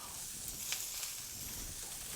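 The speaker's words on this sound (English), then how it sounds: "Nice little sear." Shrimp sear in a stir-fry pan with a soft, steady sizzle and hiss, fairly quiet and constant, with a couple of faint pops and no voices.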